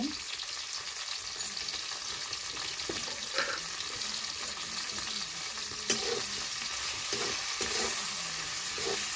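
Okra sautéing with salt in a pan, giving a moderately quiet, continuous sizzle with occasional soft knocks from stirring.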